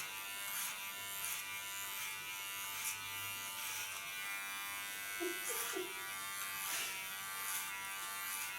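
Electric hair clipper with the blade set to its closest position buzzing steadily and close by during a short clipper haircut, a faint voice briefly audible beneath the hum.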